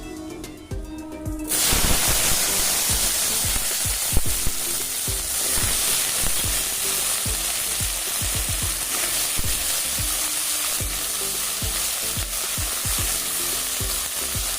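Pumpkin frying in oil with dried red chilli and five-spice seeds, a dense, steady sizzle from close by, with repeated spatula stirs and scrapes against the pan throughout.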